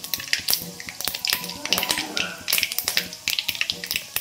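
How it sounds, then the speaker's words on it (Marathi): Mustard seeds and cumin sizzling and popping in hot oil in a home kitchen, with dense crackles and sharp sporadic pops close by, steady throughout without speech. "इथं तेल गरम करायला ठेवलं आहे आता. त्याच्यामध्ये टाकली मोहरी"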